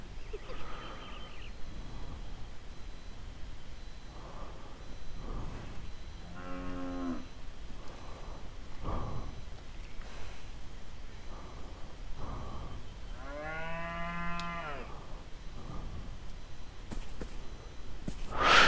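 A cow in the video game Beyond Eyes moos twice, a short low call and then a longer drawn-out one, over a quiet ambient backdrop with faint soft thuds.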